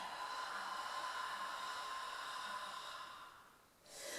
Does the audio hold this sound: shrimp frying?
no